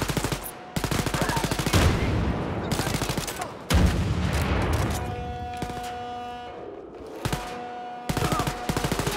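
Video game crossfire: sustained rapid automatic gunfire in dense bursts, loud and close, broken by brief pauses, with faint talk underneath.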